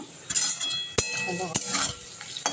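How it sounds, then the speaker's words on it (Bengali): Food frying in a pan for a home birthday meal, with several sharp metal clinks of a utensil stirring and scraping against the pan over a steady close sizzle. "এখানে ভাজাটা ভাজছি"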